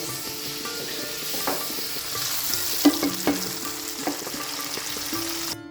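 Food sizzles steadily in a hot pan while a utensil stirs, scraping and clinking against the metal now and then.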